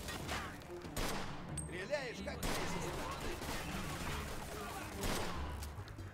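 Bursts of rapid gunfire crackle repeatedly in the video game Mafia II: Definitive Edition, with volleys of shots and a voice speaking Russian in between.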